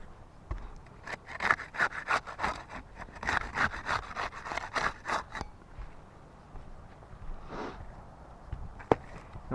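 A putty knife scrapes and pries under roof shingles to unseal them, a run of quick close scraping strokes that fades to quieter rubbing and a sharp click near the end.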